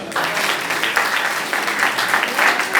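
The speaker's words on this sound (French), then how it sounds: "Acclamez pour sa vie." A church congregation breaks into sustained applause, a dense, steady wash of many hands clapping that swells and pulses for the whole stretch at moderate loudness.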